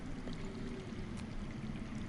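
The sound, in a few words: flowing underground water in a video game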